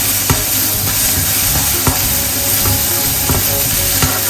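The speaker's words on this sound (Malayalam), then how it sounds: "ചെറിയൊരു ബ്രൗൺ കളർ ആവുന്നവരെ നമുക്കൊന്ന് വഴറ്റിയെടുക്കാം" Chopped onions sauté in a frying pan until lightly browned, making a steady, loud sizzle close by, broken by occasional clicking stirs of a spoon against the pan.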